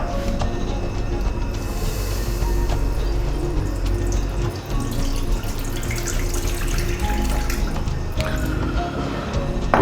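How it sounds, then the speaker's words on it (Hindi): Water from a glass poured into a cooking pot on a lit stove, a continuous splashing, trickling stream with drips, steady and close throughout. "इसमें डालते हैं जी पानी।"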